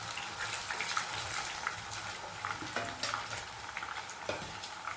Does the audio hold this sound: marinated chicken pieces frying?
yes